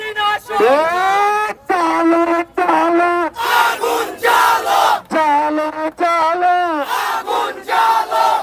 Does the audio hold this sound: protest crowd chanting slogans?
yes